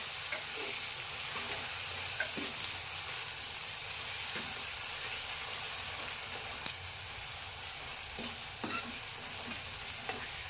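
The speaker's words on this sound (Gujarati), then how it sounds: "હવે આને ધીરે ધીરે હલાવી દેવાનું છે" Kadhi with garlic and green chillies is stirred slowly in a pot, a steady hissing sizzle with soft, widely spaced scrapes and taps of a spoon, close by and free of talk.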